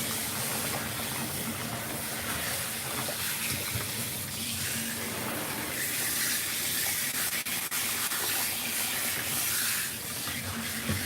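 Tap water runs into a bathtub while a cat named Jiggles is rinsed, making a steady, close hissing gush that continues unbroken, with no talking.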